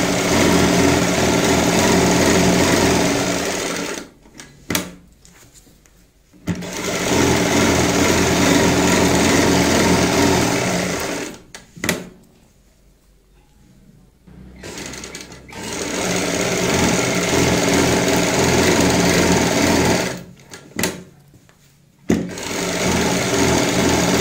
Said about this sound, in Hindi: यहाँ पे सबसे पहले जो हमने निशान लगाया है इसके ऊपर सिलाई लगानी होती है